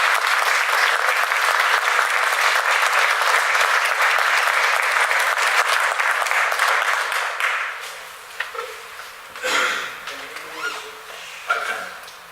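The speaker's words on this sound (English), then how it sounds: "Please give a big round of applause to Professor Flemming Besenbacher." An audience applauds Professor Flemming Besenbacher at a lecture on clean air and photocatalysis: dense, loud clapping that holds steady for several seconds, then thins and fades into a few scattered claps and faint room sounds.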